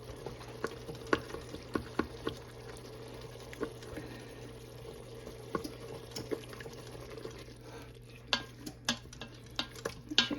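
A spoon stirs and scrapes through thick chili inside an Instant Pot, giving soft repeated clicks and knocks over a faint bubbling simmer, with the taps growing sharper and more frequent toward the end; no talking.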